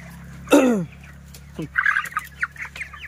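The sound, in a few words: broiler chickens clucking on a farm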